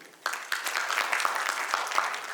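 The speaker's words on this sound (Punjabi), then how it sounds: "ਇੱਕ ਵਾਰ ਤਾਲੀ ਦਿਓ ਜ਼ਰੂਰ" A congregation at a religious gathering claps together in a short burst of hand claps, fairly close and steady for about two seconds.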